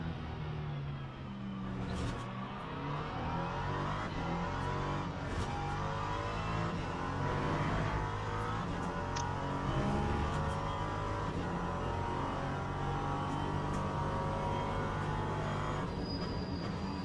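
A race car engine in a racing video game at Bahrain drones steadily throughout with shifting engine pitch and brief gear-change surges, loud and continuous with no talk.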